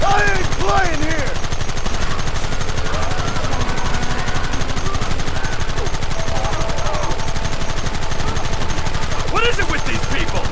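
Dense, rapid gunfire rattles nonstop in a Red Dead Redemption western shootout, loud and close, with brief shouted voices at the start and again near the end.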